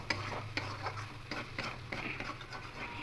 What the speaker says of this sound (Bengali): এটাকে আরও এইভাবে খুন্তি দিয়ে নাড়তে থাকবে